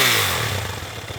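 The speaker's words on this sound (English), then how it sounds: "start the engine to check the oil pressure" A Yamaha WR450F four-stroke dirt bike engine runs up close, loud and rough, settling from an initial rev into a steady throbbing idle over a second or so.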